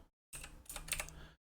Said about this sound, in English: You probably will be able to also hear some of my keyboard sounds,